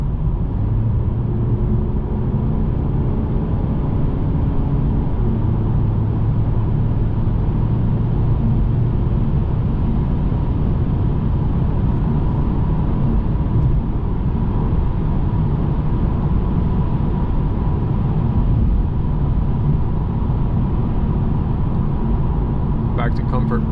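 Inside a 2021 Mercedes E-Class AMG Line at night, a steady low engine and road drone fills the cabin under full throttle, loud and continuous, with little change in pitch.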